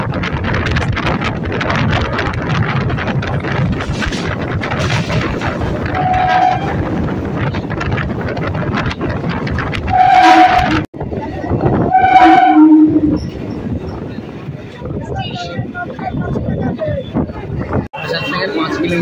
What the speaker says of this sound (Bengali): ফাইনালি আমাদের নতুন পার্পেল আইসিএফ ছেড়ে দিল বারাসাত জাংশন থেকে শিয়ালদার উদ্দেশ্যে